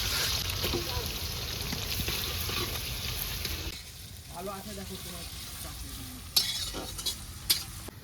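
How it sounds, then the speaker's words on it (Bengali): Fritters sizzling loudly in hot oil in a large wok, a dense steady frying hiss for the first half, then quieter bubbling with a few sharp clinks of a utensil; faint talk in the background. "ব্রেস্তাগুলো ভেজে নেবো"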